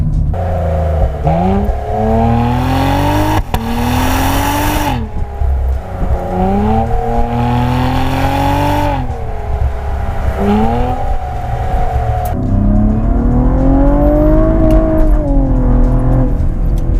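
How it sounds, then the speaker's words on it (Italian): A Cadillac ATS-V sports car engine revving repeatedly through rising gear pulls, loud and close, tones climbing then dropping between shifts. "non ci permettono di godere appieno del sound di questo motore"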